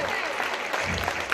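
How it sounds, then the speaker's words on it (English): Audience clapping at a student academic ceremony, a steady dense patter of many hands filling the whole moment, loud and sustained with no pauses. "Clap for him."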